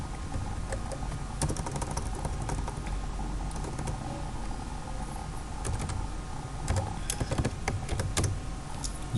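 Someone typing on a computer keyboard in a computer lab class, a steady patter of quiet key clicks with a few louder strokes, no voices.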